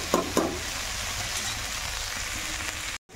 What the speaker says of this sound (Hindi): अब टाइम है पोटैटो फ्राई की